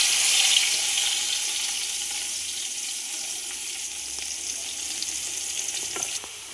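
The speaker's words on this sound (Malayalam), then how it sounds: "അതിന് വേണ്ടിയിട്ട് ഉള്ളി, തക്കാളി നമ്മൾ വെളിച്ചെണ്ണയിനകത്ത് വെളിച്ചെണ്ണ കുറച്ച് ഒഴിച്ചു കൊടുത്തിട്ടുണ്ട്." Onion and tomato fry in coconut oil with a steady hissing sizzle that eases slightly over time, plus a few faint clicks of a utensil near the end, close by and without speech.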